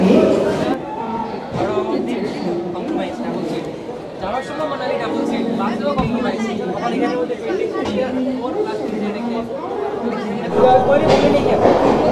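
Boarding the 15959 Kamrup Express from Kolkata: a busy carriage with crowd chatter, footsteps and shuffling inside the train, with voices talking throughout.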